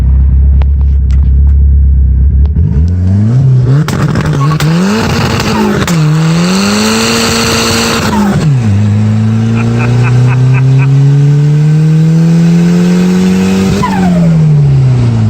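A built, turbocharged Mitsubishi Eclipse with the 420A engine sits idling, then launches hard and pulls through several gears. Each gear brings a rising engine roar with brief shift dips, all loud and close from inside the car with little talk.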